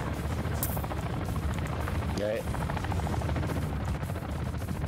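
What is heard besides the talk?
helicopter flying overhead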